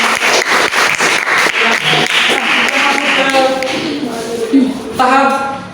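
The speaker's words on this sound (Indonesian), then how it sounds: "tepuk tangan dulu" A class of students claps together in a steady, rhythmic beat. The claps are loud and close at first, then loosen and fade as voices rise toward the end.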